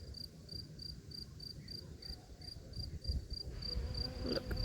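Crickets chirping outdoors among blooming viper's bugloss, a steady high pulsing trill repeating evenly throughout, fairly faint over a soft rustling background.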